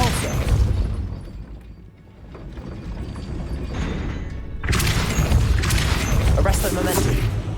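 A Depulso spell going off in Hogwarts Legacy, a dense mechanical rumble and whooshing burst that swells after a brief dip, loud and close, with game voices mixed in.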